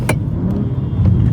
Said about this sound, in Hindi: इसके अंदर डीप आवाज है थोड़ा सा, थैंक्स टू इसके इनलाइन जो 6 सिलेंडर इंजन है ना